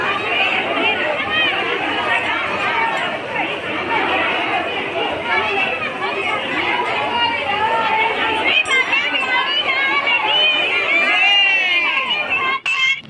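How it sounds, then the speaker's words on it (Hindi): Dense crowd packed inside Banke Bihari temple in Vrindavan, a loud, unbroken babble of many voices chattering at once, close and surrounding, with no single voice standing out. "जितना हम लोग सुना था बांके बिहारी मंदिर के बारे में, उससे भी कई ज़्यादा भीड़ है"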